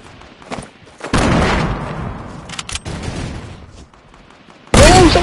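Gunfire erupts in a video game squads match: sharp loud shots, then a dense burst of rapid fire and scattered cracks, ending with a sudden loud blast.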